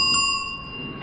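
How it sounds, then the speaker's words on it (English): A bicycle bell rings once on a path through a wash tunnel beneath roads, giving a bright metallic ding that rings on and fades over about a second. "Whoa, bell."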